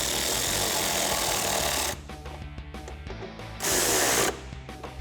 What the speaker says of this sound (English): Grab your 8mm socket and tighten them down.